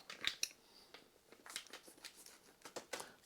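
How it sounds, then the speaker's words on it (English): Sanitized scissors snip open hop bite packets for a brewing kit, a few quiet close cuts followed by faint crinkling of packet material, all soft and sparse. "Get those opened with my sanitized scissors here"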